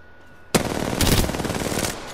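Rapid automatic gunfire in the shooter game Apex Legends, a loud, dense burst of shots starting abruptly and lasting nearly two seconds before fading.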